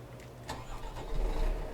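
A heavy Scania P truck engine idles steadily with a low rumble in Euro Truck Simulator 2, heard from inside the cab, growing slightly louder toward the end.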